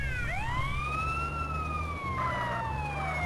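An ambulance siren in the GTA San Andreas video game wails in a long rising and falling sweep, loud and steady over a constant low engine rumble.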